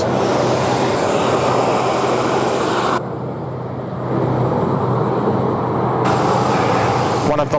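Virgin Blue airliner at Sydney Airport in wet weather, a loud continuous jet engine roar that cuts out abruptly for a few seconds and then returns at full strength.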